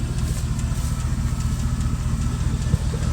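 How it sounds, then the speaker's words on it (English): A Chevy truck engine idling with a suspected misfire, a steady close low rumble with an uneven, pulsing beat throughout, no voices. "I don't know if y'all can tell this is misfiring, but it sure sounds like it is to me."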